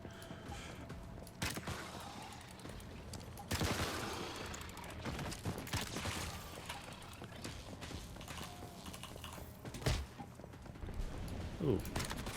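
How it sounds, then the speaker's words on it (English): Gunfire in the survival shooter Once Human, heard as scattered shots and bursts over a busy in-game soundscape with footsteps and mechanical noises, while a voice talks throughout. "Somebody shot me."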